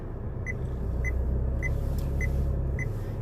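A car beeps steadily, five short high tones evenly spaced over a low idling rumble, with no talking.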